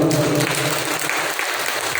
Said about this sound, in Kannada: ಜೋರಾಗಿ ಒಂದು ಚಪ್ಪಾಳೆ ತಟ್ಟೋಣ.